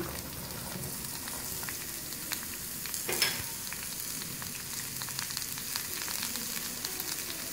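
Cauliflower florets fry in hot oil with a steady, moderate sizzle and crackle, broken by a brief louder pop midway, with no voices.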